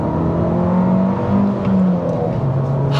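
An Abarth 595 with an Akrapovič exhaust revs, its engine note rising and falling in loud, close pulls with a raspy, crackling edge and no talking over it.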